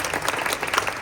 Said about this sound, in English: So let's give a round of applause for Kiersey.